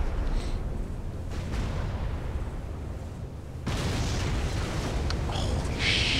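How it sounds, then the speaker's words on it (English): Battleships firing in the strategy video game Supreme Commander, a continuous low rumble of heavy booms and explosions that swells louder partway through, with distant bursts layered on top. "Ah, that's the battleship shooting."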